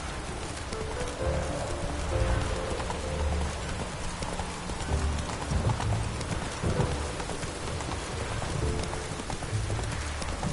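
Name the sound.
horse Roach galloping in The Witcher 3 video game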